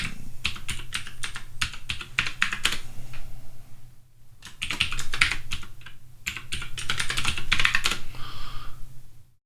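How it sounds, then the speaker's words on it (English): Typing a password on a Mac computer keyboard, bursts of quick close keystrokes separated by short pauses, crisp and moderately loud with no talking. "Provided I can type the password incorrectly."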